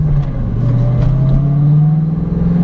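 A modded 2001 Ford Mustang Bullitt accelerates hard on the Pig Trail, its loud, close engine droning with a steadily rising pitch throughout.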